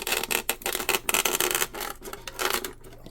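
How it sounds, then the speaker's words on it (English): Dense foam flotation block being pressed and rubbed tightly into the hull of a Deltaforce Vortex 24 twin RC hydroplane, giving close, repeated squeaky rasping scrapes in irregular bursts. "I pressed it in there, so I know I got a nice tight fit"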